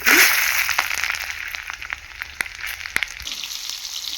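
Whole garam masala, dry red chillies and garlic hit hot oil in a pan, giving a bright, close sizzle that starts loud and settles into a steady crackling fry with scattered pops.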